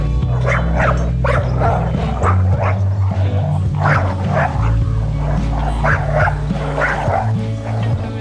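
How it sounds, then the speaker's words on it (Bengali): Dogs bark repeatedly in loud, sharp bursts with yips mixed in, close by, over a steady low background hum. "কুকুরের চিৎকারে ভয় পেয়ে"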